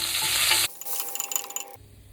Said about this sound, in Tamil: பெருங்காயம் நல்லா பொரிஞ்சதுக்கப்புறம் கருவேப்பிலை இதை நல்லா மிக்ஸ் பண்ணிவிட்டு